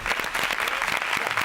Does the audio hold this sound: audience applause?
yes